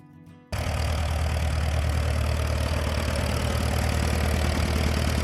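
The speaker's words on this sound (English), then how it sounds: "Farmall Super A." A 1947-era Farmall Super A tractor engine idling close by, a steady loud low-pitched running drone that starts abruptly after a brief quiet moment and continues evenly throughout.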